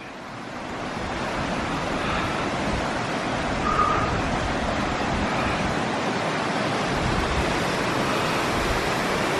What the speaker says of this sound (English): look at those cascading waterfalls